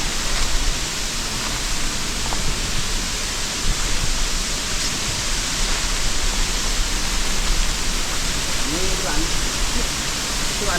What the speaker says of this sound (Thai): เป็นน้ำตกที่ ค่อนข้างจะสูงนะครับ